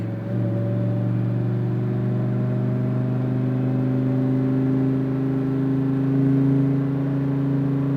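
A Lamborghini Huracan on a race track holds a steady, loud engine drone with strong low harmonics, accelerating smoothly and continuously throughout without gear-change breaks.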